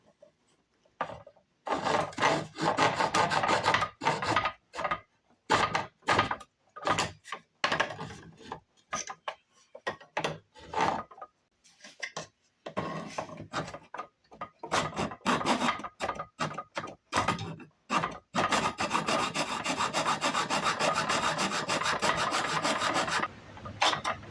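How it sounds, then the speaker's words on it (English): A small hand saw cutting wooden dowels out of a door, loud close rasping strokes in rapid back-and-forth bursts, broken by brief pauses before long continuous sawing runs. "Next thing to do is to take my little saw and cut the dowels out of the door."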